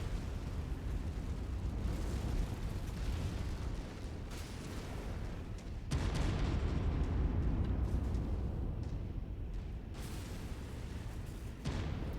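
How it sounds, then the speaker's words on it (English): A gas pipe explodes during a Mechwarrior 5 mech battle, giving rumbling, booming blasts that stay loud and dense throughout, with a sharper burst near the middle. "Figured I'd blow that gas pipe before I stepped on it."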